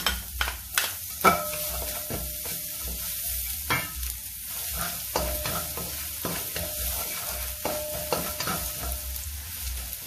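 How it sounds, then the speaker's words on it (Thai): Garlic frying in a little oil in a pan for a Thai chili-salt mix: a close, steady sizzle with sharp spatter pops and occasional utensil clicks, alone without voices. "ใส่น้ำมันลงไปนิดหน่อยค่ะ ตามด้วยกระเทียมค่ะ"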